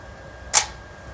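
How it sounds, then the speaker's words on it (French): A camera fires once when its shutter release is pressed, giving a single sharp, crisp click that is close and brief against a quiet room. "quand j'appuie sur mon déclencheur"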